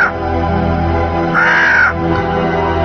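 A crow caws loudly and close, one drawn-out harsh call standing out over a steady background drone, with no talk.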